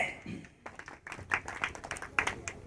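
Faint, sparse audience clapping at a mimicry stage show, scattered claps running thinly under a voice.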